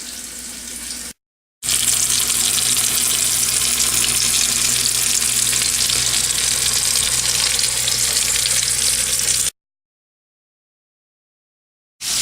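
Burgers and butter-coated buns frying face down in a pan, giving a steady, close, loud sizzle with a hissing, water-like texture that continues without pause, with brief silent gaps at the start and the end.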